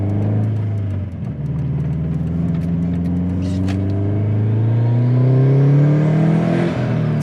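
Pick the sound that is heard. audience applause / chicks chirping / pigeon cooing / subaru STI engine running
subaru STI engine running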